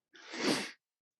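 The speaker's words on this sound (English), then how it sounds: "now I have a sneeze" A single sneeze, close and fairly soft, a quick burst of breathy noise lasting under a second, followed by silence.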